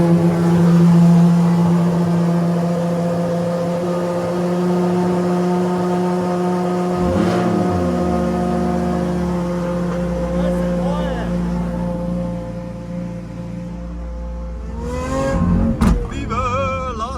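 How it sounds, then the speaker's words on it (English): Lamborghini Murcielago V12 cold-starting with a loud, steady deep idle drone that holds throughout, a sharp surge of revs near the end, and people talking underneath. "Cold start."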